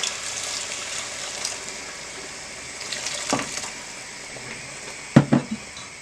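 Beef stock poured into a hot pot for French onion soup makes a steady, gentle liquid rush with a faint simmering hiss underneath, close by, with a few sharp clanks near the end.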